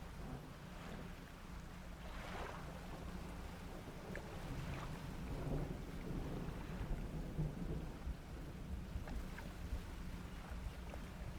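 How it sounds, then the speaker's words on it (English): Thunder from a lightning strike at sea in the fishing video game Dredge rolls as a steady, broad rumble over continuous rain and surf for about eleven seconds, with no voices. "Oh, there's a lightning strike."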